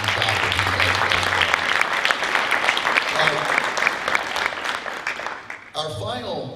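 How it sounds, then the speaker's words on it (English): Loud, sustained audience applause at a high school hall of fame induction ceremony, filling the whole stretch, with crowd noise and a few cheers mixed in. "So how about a round of applause for Gavin Keith?"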